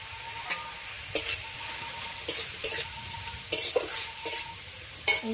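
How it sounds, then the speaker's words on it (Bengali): Capsicum strips fry in a pan with salt and turmeric for chowmein, stirred in sharp, regular scraping strokes roughly every half second to second over a steady sizzle, close up and without talking. "আবারও দিয়ে দিচ্ছি নুন হলুদ দিয়ে আমি ভালোভাবে নেড়ে চেড়ে ভেজে নিচ্ছি।"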